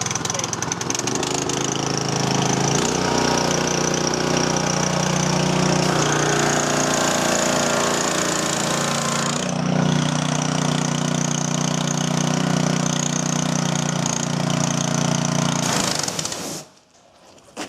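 A small engine runs rough for about sixteen seconds, a loud, steady but uneven chugging drone that stays close, then suddenly cuts off near the end, with some talking faintly underneath.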